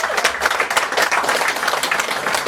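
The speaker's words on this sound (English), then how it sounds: "so I think that should get a round of applause" A round of applause fills a wedding speech gathering, dense continuous clapping from many guests at close range, steady and lively throughout.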